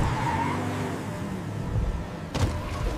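A heavy cartoon truck carrying a load skids and can't stop, giving a loud, continuous roar of engine and scraping tires with a sharp squeal-like burst near the end.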